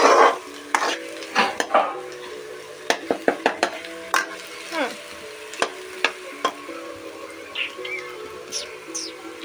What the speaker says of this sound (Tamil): பட்டத்தை போட்டு வதக்கிட்டு